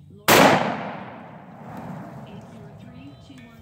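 Mossberg shotgun firing a 1-ounce Foster slug at hanging targets outdoors, a single sharp, loud blast that decays over about a second into quieter ambient noise.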